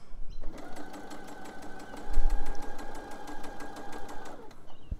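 A sewing machine stitches along the fold-over edge of knickers fabric in one continuous close burst of rapid needle strokes. A soft thump comes mid-run, with quiet lead-in and tail-off.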